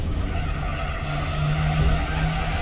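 An Opel Speedster in Gran Turismo 4 holds high revs, giving a continuous, moderately loud engine drone with a steady tonal whine and a brief skidding hiss.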